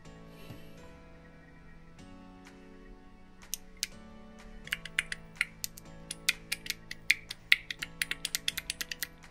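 A part inside a Philips espresso machine clicks once powered, sharp ticks starting sparse then quickening into a rapid, fairly regular clicking over a steady electrical hum, close and alone.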